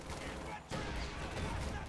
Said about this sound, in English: Rakettenwerfer's firing at the wrong target.